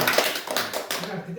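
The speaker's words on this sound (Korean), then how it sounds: "박수로." A small group of people applauding at a meeting, a short burst of scattered hand claps close by, mixed with talking voices.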